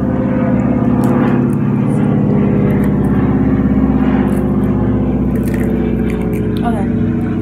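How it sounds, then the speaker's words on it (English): Propeller airplane passing overhead outdoors, a loud sustained engine drone holding steady throughout, heard beneath close conversation. "There's an airplane passing by."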